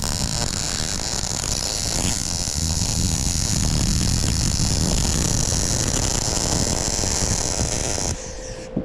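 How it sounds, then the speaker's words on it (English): An arc welder lays a continuous bead on a homemade metal rod holder after tacking, giving a loud, close, steady crackling buzz that stops abruptly near the end, leaving a quieter hum. "I'm gonna weld it right in."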